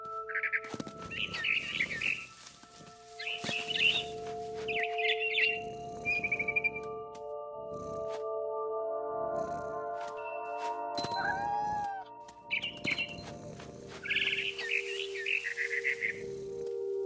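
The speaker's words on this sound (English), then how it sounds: "Then I heard chirping outside my window. It was a barn swallow going back to her nest." A barn swallow chirps in the video game What Remains of Edith Finch, bursts of bright twittering calls repeating in clusters over a held musical tone, close and clear.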